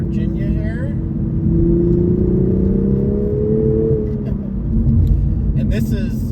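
Steady, close engine drone and road rumble from a manual Toyota GR Supra on twisty West Virginia roads, with the revs rising and easing through bends, under occasional talk.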